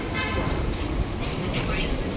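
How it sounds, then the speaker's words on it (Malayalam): Busy railway station ambience in Mumbai at night, with a steady hum of crowds and machinery, indistinct voices mixed into the background. "ഇവിടെ ഏതായാലും ഒരു റെയിൽവേ സ്റ്റേഷനിലാണ് നമ്മൾ എത്തിയിരിക്കുന്നത്"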